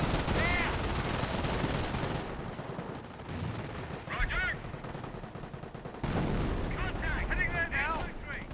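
Machine gun fire from the World War II strategy game Company of Heroes, in a British campaign mission, rattles in dense bursts with other battle noise and game sounds, loud and continuous, briefly dropping back before swelling again.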